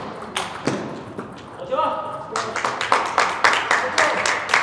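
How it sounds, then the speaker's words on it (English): Spectators at a college table tennis tournament cheer and clap in rhythmic bursts, with ball taps and a commentator's voice running over them. "his crowd's organized now. They're cheering a little bit there."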